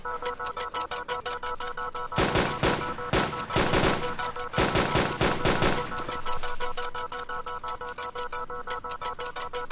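Gunfire in the video game DayZ, rapid crackling bursts of automatic shots in several clusters over a steady electronic tone, loud and close.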